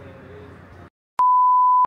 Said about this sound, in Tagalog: Puro beep na naman.